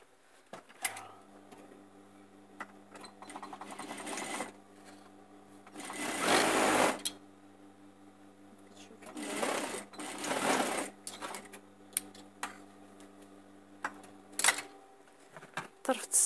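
A sewing machine stitches upholstery fabric during a living room makeover, running in several bursts of steady mechanical whirring, with quiet handling clicks between the runs.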